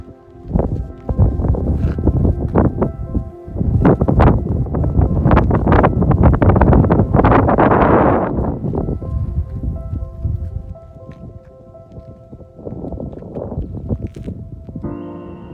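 Warm, dry prairie wind gusting across open farmland near the Red Deer River badlands in Canada, buffeting the microphone in loud, sustained rushes that ease off toward the end.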